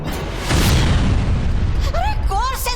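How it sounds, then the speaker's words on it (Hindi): TV show sound-effect explosions hit an army, a loud rumbling boom swelling and lingering, followed by whistling firework-like squeals as a voice speaks. "ये सेना पे धमाके कैसे?"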